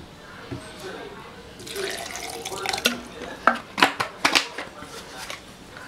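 Water poured in small splashes into a grape juicer holding fruit, with a run of irregular close sloshes and clinks that grow louder in the second half of the clip.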